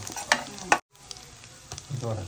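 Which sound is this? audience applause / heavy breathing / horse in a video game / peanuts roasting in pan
peanuts roasting in pan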